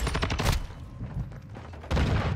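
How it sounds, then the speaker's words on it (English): Shotgun blasts from Call of Duty: Modern Warfare 2 gameplay, heavy bursts of gunfire in a dense close-range volley at the start and again at the end, with quieter battle noise between. "Yeah, this is a shotgun"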